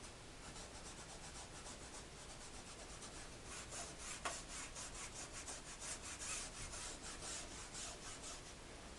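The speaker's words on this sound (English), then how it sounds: "by blending it, you're really going to rub this into the muslin or the fabric that you're using." Pastel is rubbed into muslin fabric in quick repeated strokes, a soft rhythmic scratchy rasping that is faint and close.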